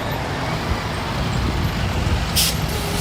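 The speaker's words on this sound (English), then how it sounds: "School bus." Traffic on a Harrisburg, Pennsylvania street as a school bus goes by, a steady broadband roadway rumble with a short hiss like an air brake near the end.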